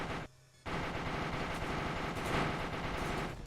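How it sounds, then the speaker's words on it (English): Dense, continuous automatic gunfire from turrets shooting at aliens in the game Arma 3, rattling hard and loud for a few seconds after a brief lull. "The turrets are the first to notice the aliens in the distance, and so we'll be the first one firing"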